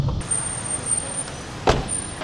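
Busy Bangkok street traffic, a steady low rumble of cars and buses with a brief hiss like an air brake near the end, fairly close.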